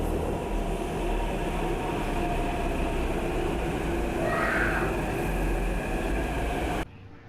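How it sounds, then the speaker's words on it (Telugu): A Hyderabad metro train on the Nagole to Raidurg line arrives and runs with a loud, steady rumble and rail noise that cuts off sharply near the end. "మొత్తం మన ట్రైన్ వచ్చేసింది"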